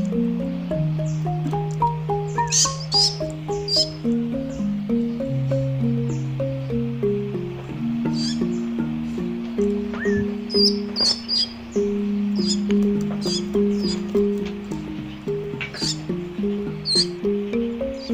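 A Javan myna chick begs with rapid, repeated chirps and squeaky calls while being hand-fed soft pellets, close and continuous with wet feeding clicks between the notes.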